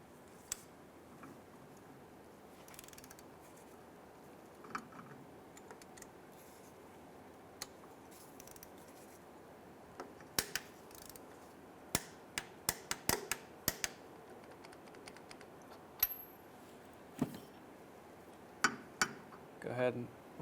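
A torque wrench tightens a 19 mm crankshaft vibration damper bolt on a 2003–2011 Honda Element engine, giving a scattered run of sharp clicks and ticks that grows denser toward the end, close by and fairly quiet.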